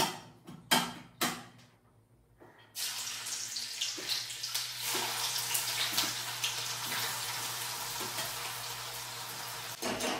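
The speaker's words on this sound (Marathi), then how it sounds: "तर आता तेल तापलेलं आहे, त्याच्यात आपण कांदा सोडू." Onion is dropped into hot oil for a home-cooked chicken dish, setting off a sudden, steady, close sizzling hiss that follows a few clanks of utensils.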